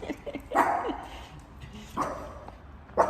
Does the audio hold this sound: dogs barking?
yes